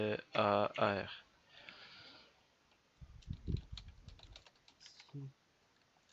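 Soft clicks of typing on a computer keyboard come in a short burst and a few scattered taps, faint and close, after a brief stretch of speech at the start.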